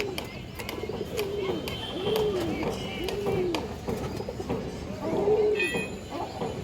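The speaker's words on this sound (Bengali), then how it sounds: "দর্শক দেখেন বিগ সাইজের একটা কবুতর" A large pigeon coos in a series of low, rolling calls at a steady pace, close and clear against soft background noise.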